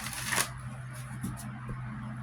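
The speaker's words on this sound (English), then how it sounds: "Let's shuffle." Tarot cards are shuffled in one short, crisp riffling burst near the start, then only a quiet hum remains.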